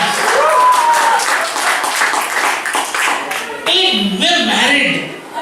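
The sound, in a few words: audience applause at a comedy open mic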